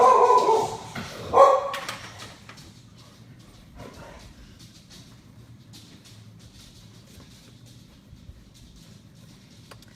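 A pet dog barks and yips excitedly indoors during the first two seconds, two loud bursts close by, then the room falls to quiet background hum.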